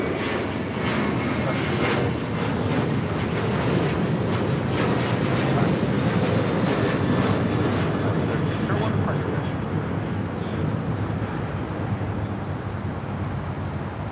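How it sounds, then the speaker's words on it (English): An Alaska Airlines Boeing 737-900ER taking off from LAX at night, a loud, rumbling jet roar sustained throughout, with people talking over it. "This is Alaska Airlines 1301 taking off to Seattle on a 737-900 ER"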